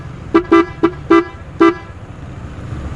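Five short, sharp horn beeps from a Honda ADV150 scooter in an uneven pattern, loud and close, with quiet background hum between them.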